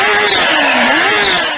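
A supercharged Kawasaki H2 1000 motorcycle engine roars loudly and close, its pitch dipping and then rising again in a short sustained pull with a whining supercharger tone above it.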